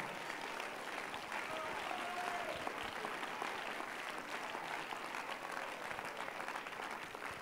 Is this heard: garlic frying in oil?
no